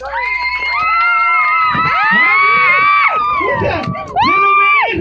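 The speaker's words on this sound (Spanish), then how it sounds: "¡Aplauso y grito!" Audience at a singing contest shouting and cheering loudly, with overlapping high-pitched voices, including children, rising and falling in sustained yells close by, a brief dip and then a renewed burst near the end.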